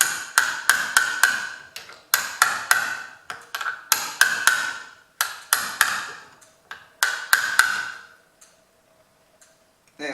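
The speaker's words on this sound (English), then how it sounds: "use a bolt upside down to hammer it in, use a punch or a socket" A bolt is hammered upside down into a Ryobi Expand-It strimmer trimmer attachment head using a punch or socket, giving sharp metallic taps in quick bursts of two to four strikes, close and loud, then falling quiet.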